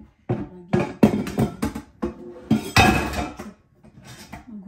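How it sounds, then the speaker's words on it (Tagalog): Dishes, cutlery and pots clatter and clink in a home kitchen during washing up, a string of close, irregular knocks and scrapes with short pauses between bursts. "Maghugas muna tayo"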